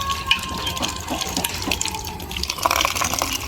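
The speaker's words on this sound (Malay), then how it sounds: "Bilas dengan air." Tap water runs steadily while something is rinsed under it for aquarium feeding, the splashing stream close and continuous, with no voices.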